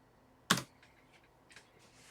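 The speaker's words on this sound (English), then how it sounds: "You will not believe how hard it is to talk while typing in your first run for making a video." Typing on a computer keyboard while setting up a PHP project: one sharp close keystroke, then a few faint scattered clicks in a quiet room.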